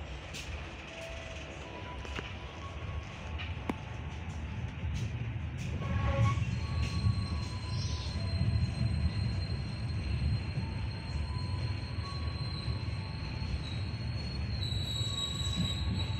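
A passenger train rumbles as it pulls away from Cikarang station and gathers speed, with steady low wheel noise and high-pitched squeals of wheels on rails.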